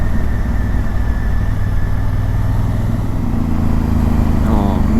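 Motorcycle engine running steadily on a road at close range, a continuous loud low drone with a rising pitch shift near the end, no speech over it.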